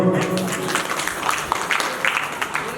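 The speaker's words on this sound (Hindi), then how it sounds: "ताली बजा दो" A crowd at a staged contest claps after a 50 lakh rupee win is announced. The steady, dense patter of hands runs under a voice that is talking over it.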